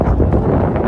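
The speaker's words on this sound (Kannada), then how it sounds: "ಗಾಳಿ ತುಂಬ ಜೋರಾಗಿ ಬೀಸ್ತಾ ಇರೋದ್ರಿಂದ ನಮ್ಮ ವಾಯ್ಸ್ ಸ್ವಲ್ಪ ಕಮ್ಮಿ" Strong wind blowing on a hilltop at Nandi Hills, a loud, buffeting rumble hitting the microphone in uneven gusts with no speech.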